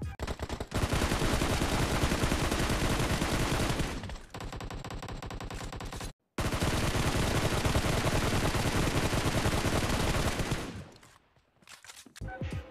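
Rapid automatic gunfire from M416 and SCAR-L rifles in PUBG Mobile during a recoil test, dense sustained bursts with a brief gap near the middle and a tapering end.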